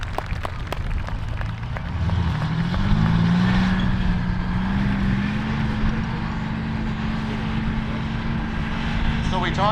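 A running tank engine rumbles steadily at a public tank display, a deep continuous drone that swells slightly as the vehicle moves, with a voice talking over it.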